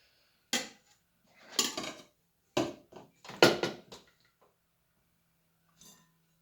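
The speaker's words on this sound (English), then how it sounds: "I'm just going to sort of put bits in at a time. So a bit of the straw, a bit of the sawdust." Straw and sawdust tossed into a bowl a bit at a time for a mushroom-culture mix, heard as five or six close, sharp rustling clatters in uneven bursts, with quiet gaps between and a faint last one after a pause.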